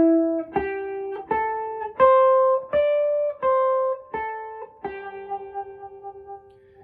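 An electric guitar plays box blues licks, a run of single picked notes climbing and then settling with light vibrato and sustain, close and clear with no talking.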